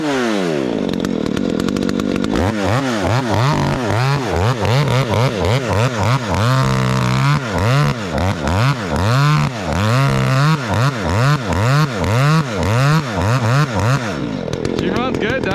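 A Husqvarna 372XP big bore chainsaw bucks firewood, roaring loud and close as its engine surges and bogs in a steady rising-and-falling rhythm while cutting through the log.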